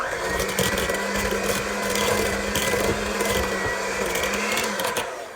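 An electric mixer steadily drones and whirs through tea cake batter as an egg is beaten in, running loud and close for several seconds, then winding down at the end.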